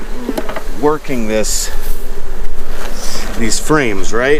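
Honey bees buzz steadily around an open beehive as frames are handled, a continuous droning hum running beneath a voice talking throughout.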